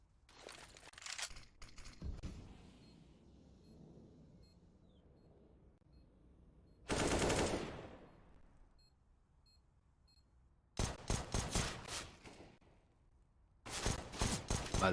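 Gunfire from AK rifles and pistols during a CS:GO esports match: scattered shots early on, then loud rapid bursts in the middle and near the end, separated by quieter stretches.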